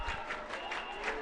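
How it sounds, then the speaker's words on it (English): Crowd roaring and applauding at a Queen's College versus Dale College school rugby match as the teams run on, a faint, brief swell of cheering and clapping from a distance. "the Queenians are now running on, and you hear the crowds roar"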